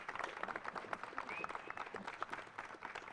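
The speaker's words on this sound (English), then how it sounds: "Please give Sophie a round of applause." An audience applauds at a senator's housing-bill announcement event, steady dense clapping that fills the whole stretch with no voices over it.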